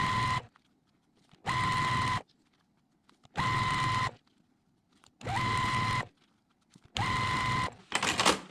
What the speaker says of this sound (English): So we'll just keep on sewing.